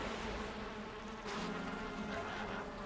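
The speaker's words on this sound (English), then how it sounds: "See, something's attacking the bees right now, and they're about to kill it." Bees buzzing around their hives in the Valheim video game, a soft, steady insect drone with a slight swell partway through, faint and unaccompanied by speech.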